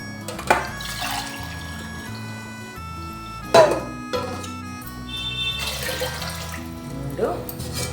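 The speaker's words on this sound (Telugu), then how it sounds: "4 గ్లాసులకి 12 గ్లాసులు వాటర్ పోస్తున్నాను" Water pours into a cooking pot by the glassful in a home kitchen, splashing in short bursts with clinks between pours, while someone talks over it.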